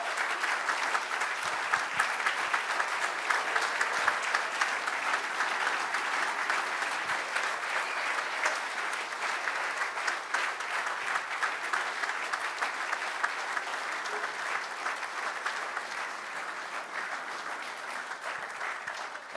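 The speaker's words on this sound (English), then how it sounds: "give them a massive round of applause for their support" Sustained applause from a conference audience honoring volunteers at a PMI Africa closing session, a long, even wash of many clapping hands at moderate level, continuing without pause and carrying no speech.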